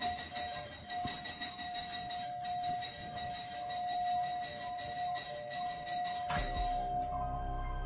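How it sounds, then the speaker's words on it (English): A bright bell tone rings steadily for several seconds in a quiet room, then cuts off abruptly with a clunk and low rumble. "There's somebody ringing the doorbell."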